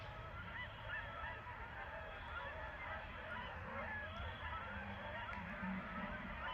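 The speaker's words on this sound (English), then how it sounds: "I found out where those geese are at. They're all at that pond over there." Many geese honk together at a distant pond, a dense, continuous chorus of calls over faint outdoor background noise.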